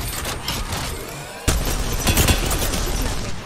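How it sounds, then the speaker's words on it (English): An enemy fires a continuous fusillade in the Apex Legends video game, and the dense rapid gunfire is loud and steady. It grows more intense after a sharp burst partway through. "Oh, he's shooting."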